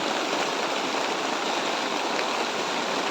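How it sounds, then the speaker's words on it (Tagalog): Rain pours down outdoors in a constant, even hiss that fills the whole stretch without any breaks, with no voices heard. "Nabutan tayo ng ulan."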